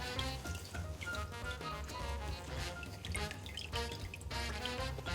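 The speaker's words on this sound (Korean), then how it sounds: "물기만 한번 꼭 짜주시면 돼요" Water drips and splatters close up as rinsed aged kimchi is squeezed by hand, an irregular patter of drops and trickles without speech.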